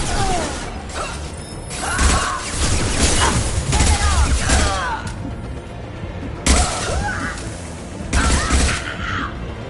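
Gunfire in Mass Effect 2 as several sharp weapon bursts and impacts land over a few seconds, mixed with mechanical clanks, whooshes and character voices in a busy battle.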